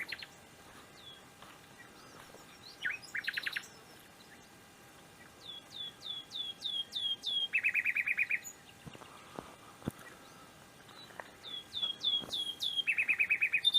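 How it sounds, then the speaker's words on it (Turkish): Birds sing in open quiet countryside farmland near a village in Turkey, with repeated bright whistled phrases and trilled chirps in bursts, some sharp calls, fairly clear and moderately near. "Muhteşem kuş sesleri doğanın içerisinde."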